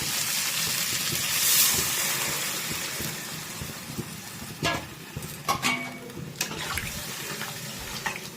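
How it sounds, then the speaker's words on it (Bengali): Water poured into a pan of fried vegetables for a Bengali fish curry with green banana, a steady gushing pour at first, then scattered sizzles and clinks as it settles. "সবজিগুলো ভেজে নিয়েছি, এবার জল ঢেলে দেবো।"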